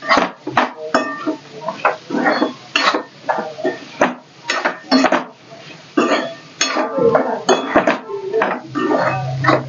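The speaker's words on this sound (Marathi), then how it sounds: "आता हे आपल्याला छान भाजून घ्यायचंय मसाल्याबरोबरच" Dried prawns being roasted with masala in a pan for a dry prawn curry, with irregular metallic scraping and clinks of a utensil against the pan in short bursts.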